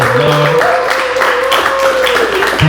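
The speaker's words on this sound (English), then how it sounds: "But I want y'all to clap it up for Paul Willis one time." An audience applauding author Paul Willis at a book talk and signing: continuous, fairly loud clapping from a crowd with a few voices and cheers mixed in.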